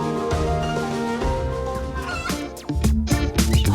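Farm-raised chickens cluck and cackle close by, with overlapping calls forming a busy, rhythmic chatter that grows louder and more clipped toward the end.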